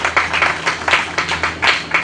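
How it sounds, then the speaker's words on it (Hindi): Rhythmic clapping from an audience at an annual function, steady beats of moderately loud claps with no voices over them. "जोरदार तालियां।"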